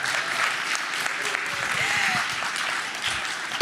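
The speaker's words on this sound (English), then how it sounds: "can you give me a huge round of applause?" Conference audience applauding at a climate action session, steady dense clapping throughout, fairly loud and close, with a brief voice starting right at the end.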